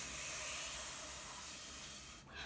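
Air blown through a drinking straw pushes wet paint across paper, making a steady close breathy hiss for about two seconds before it stops suddenly.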